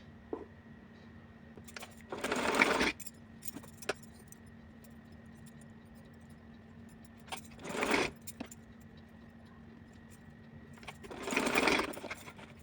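A sewing machine stitches a small cotton summer dress in three separate bursts of rapid mechanical whirring, each lasting a second or less, with quiet pauses and small clicks between them.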